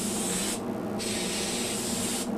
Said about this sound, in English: I'm spraying, by the way, with 2 parts of that yellow lacquer to 1 part thinner.